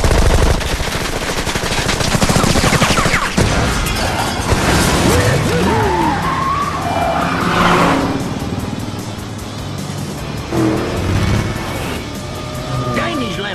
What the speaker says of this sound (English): Gatling gun activated.